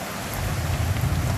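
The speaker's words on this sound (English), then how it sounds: "That's the freaking sound of rain." Steady rain falls hard nearby, a continuous hissing patter with a low rumble beneath and no one speaking.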